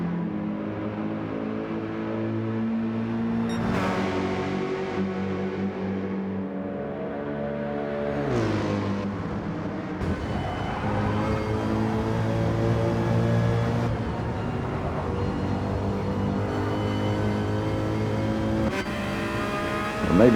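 Racing car engines in a racing video game, a Porsche chasing close behind a Mercedes, sustained high revving with gear changes and rising and falling pitch, loud and steady throughout.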